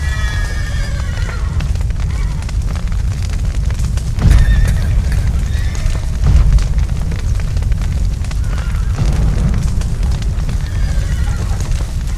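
Horses whinny and neigh over a loud, dense roar of crackling and rumbling, with hooves clopping in the mix, in The Witcher 3 video game.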